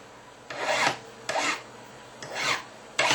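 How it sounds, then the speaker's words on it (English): A file is drawn across the snipped cut edges of a metal ring shank to flatten them, making four close, rasping strokes in a slow, even rhythm with short pauses between. "we need to file those edges flat first of all"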